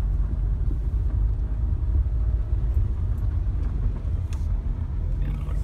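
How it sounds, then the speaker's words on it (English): A steady low rumble of road traffic on busy Superstition Boulevard, with cars passing continuously near a property close to the mountains, the engine and tire noise unbroken and fairly loud. "it's kind of busy right here as far as cars going by"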